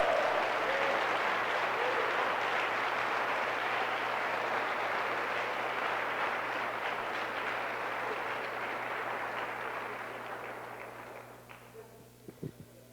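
A church congregation applauds after a sermon, a broad sustained wash of clapping that holds steady for about ten seconds, then thins and fades out toward the end.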